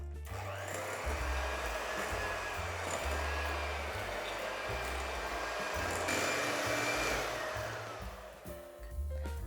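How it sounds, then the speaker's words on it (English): An electric hand mixer creams soft butter and sugar for shortbread dough, a steady buzzing whir with slight shifts in pitch as the beaters work, dipping briefly near the end. "Now I'm going to mix this for about 2 minutes till it's nice and soft and fluffy."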